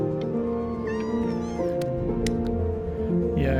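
A cat in Before Your Eyes meows repeatedly in drawn-out, wavering cries, loud and close, layered over a soft background music bed.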